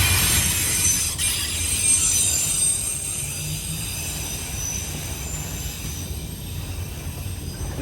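Freight train boxcars roll steadily past on the rails at a CSX derailment and cleanup site, a continuous loud rumble with high wheel squeal running throughout and no talking.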